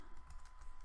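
A quick burst of keystrokes on a computer keyboard, faint and close, lasting under a second with no voices.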